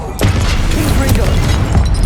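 Confringo spell blasts from the video game Hogwarts Legacy, with loud, booming explosive hits at about three points over a continuous dense roar of combat noise.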